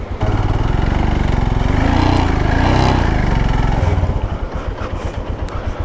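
A motorcycle engine running in first gear, loud and close with a steady throbbing note, on a mountain route through Spiti near the Indo-China border; the pitch holds for about four seconds, then drops back to a lower pulsing idle.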